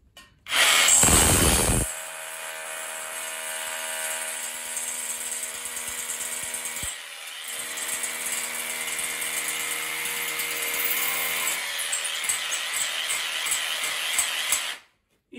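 A loud burst opens, then a Festool BHC 18 hammer drill runs steadily at high pitch, with a brief pause midway before grinding on until it cuts off.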